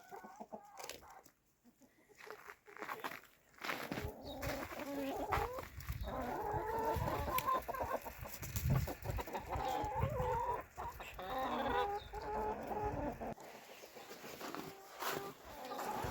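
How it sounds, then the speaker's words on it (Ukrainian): Chickens cluck and chatter nearby in an ongoing flock murmur, with occasional louder squawks rising over the clucking. "Курки."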